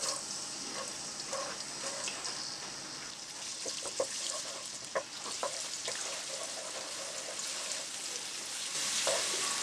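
Garlic sizzling in about a cup of hot oil in a pan, a continuous bright crackling fry with occasional sharper pops, close and steady throughout.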